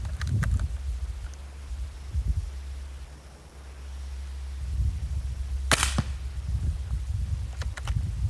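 Air javelin firing 125 grain field points, loud sharp crack of each shot with impact snaps, several shots spaced over a steady outdoor background rumble.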